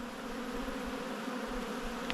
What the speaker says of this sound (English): There's a lot of robbers trying to get into it.